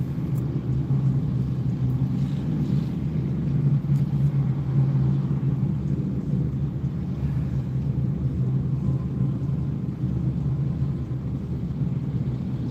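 Steady low rumble of a long procession of motorcycles and trucks rolling past, a continuous droning engine wash with no talking.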